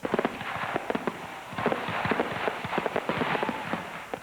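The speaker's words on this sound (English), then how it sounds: "Revelers gathered to celebrate freedom and take in a fireworks show." An evening Independence Day fireworks show over Vernon crackles with a dense, continuous run of pops and bangs at a steady middle distance, with faint crowd sounds underneath.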